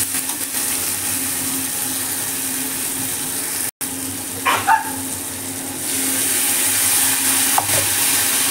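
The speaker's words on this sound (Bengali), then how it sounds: "এবার এটাকে আমি ভালো করে নেড়ে চেড়ে মশলাটাকে ভেজে নেব।" Ginger, cumin, garlic and chili paste fry with tomatoes in a pan, producing a loud, continuous hissing sizzle with a brief cut, a couple of stirring scrapes, and the sizzle intensifying afterward.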